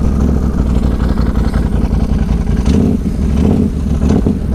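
A 4-wheel drive vehicle driving off-road at a beach riding park, its engine droning loudly and steadily with slight revving swells, close and continuous.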